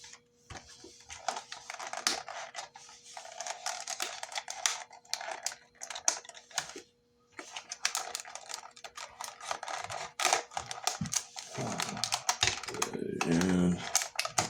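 Box cutter slicing open plastic action figure packaging, giving a run of close, dense scratchy cutting and crinkling bursts with a brief pause midway and plastic rustle near the end.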